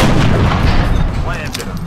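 Gunfire from the XCOM: Enemy Unknown video game, a loud, dense burst of shots and booming impacts filling the whole moment, with a ringing tail near the end.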